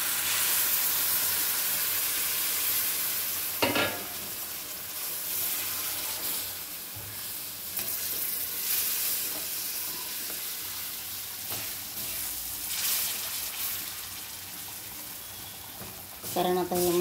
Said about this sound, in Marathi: कारण आता हे मसाला मी तिथंच फ्राय करायचे